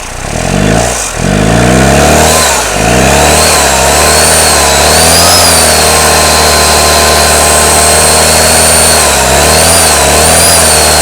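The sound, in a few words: Toyota Hilux pickup engine revving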